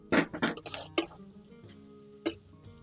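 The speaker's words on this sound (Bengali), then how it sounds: "নারকেল দিয়ে ভালো করে নাড়িয়ে চাড়িয়ে নামিয়ে দেবো" A spoon scrapes and clinks against a pan while grated coconut is stirred into cooked taro flowers, a cluster of quick metallic knocks followed by quieter scraping and one more clink.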